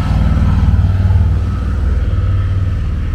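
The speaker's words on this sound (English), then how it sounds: "There goes the motorcycle." A motorcycle's low engine rumble fills the whole stretch on a street in Coeburn, Virginia, loud and close at first, with a throbbing motor note that slowly eases as it moves on.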